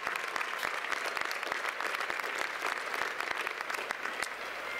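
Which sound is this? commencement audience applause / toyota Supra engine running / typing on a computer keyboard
commencement audience applause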